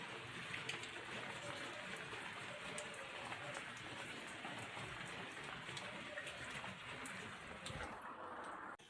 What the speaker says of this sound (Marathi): रात्रीपासून आमच्याकडे पाऊस चालू आहे